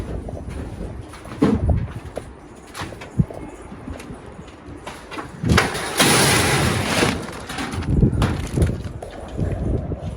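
Elvan pigeons moving about a loft make soft, intermittent coos and rustling, with bursts of wing flutter and scuffling. Some louder wingbeats swell midway through and no one speaks.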